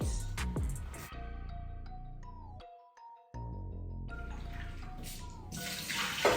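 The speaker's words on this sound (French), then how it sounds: "j'ai nettoyé avec de l'eau" Tap water runs into a sink as shrimp are rinsed in a kitchen, a steady splashing rush that cuts out briefly and then returns with heavier hissing spray.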